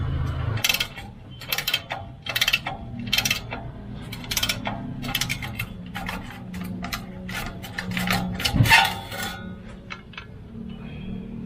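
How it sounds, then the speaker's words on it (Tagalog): 10mm ratchet working a bolt loose on a Montero Sport, giving a rapid series of sharp metallic clicks in uneven bursts, close and clear over a low background hum. "So buksan natin, gamit lang kayo ng ratchet."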